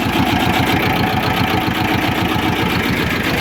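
A T-25 tractor's diesel engine idles nearby with a steady, rapid low chugging throb, loud and continuous throughout.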